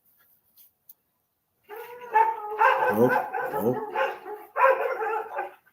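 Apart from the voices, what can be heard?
dog barking wildly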